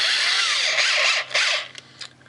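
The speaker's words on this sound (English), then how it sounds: "I'm just going to chuck them in the lathe, that way it's nice and straight." A metal lathe cuts down Allen cap screws, a steady bright high-pitched machining whir that dips briefly and fades toward the end.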